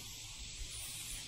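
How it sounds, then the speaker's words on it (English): A spray can of black paint applies a guide coat over primed bodywork on a 1978 Dodge Aspen R/T, giving a brief, steady close hiss that sounds weak and uneven. "This thing's not spraying very good."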